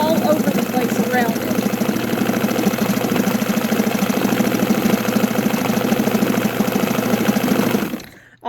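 A sewing machine darning a hole in fabric runs in a steady, continuous mechanical whir with fast, even stitching pulses, close and loud throughout, then slows and stops near the end.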